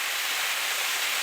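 Falling Foss waterfall in late-summer low flow, a steady broadband rush of falling water heard close and continuous, with no voices.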